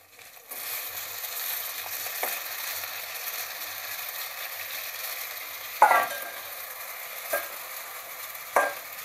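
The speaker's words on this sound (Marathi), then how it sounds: "आता घालूया आपण याच्यामध्ये मटण जे आपण हळद आणि मीठ लावून ठेवलं होतं ते" Mutton rubbed with turmeric and salt is added to a pan of browned onions in fat and fried over a high flame, giving a steady close sizzle with a few sharp stirring clatters and no talk.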